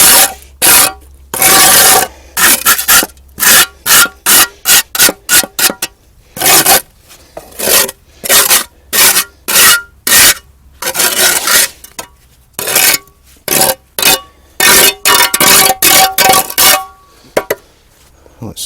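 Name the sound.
scraping soil off a concrete slab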